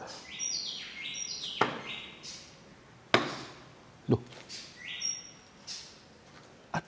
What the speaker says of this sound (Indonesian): ada burung apa kok bagus suaranya?